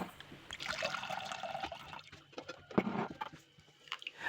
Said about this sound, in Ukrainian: Через 20 хвилин злити воду і на тій воді зробити маринад.